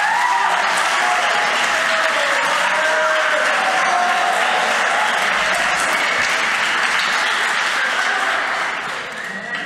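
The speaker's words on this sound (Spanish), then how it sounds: "Pido un fuerte aplauso para Pablo Auladell" Audience at the Biblioteca Valenciana breaks into loud, sustained applause for illustrator Pablo Auladell, a dense steady wash of clapping that holds for nearly ten seconds before easing slightly at the end.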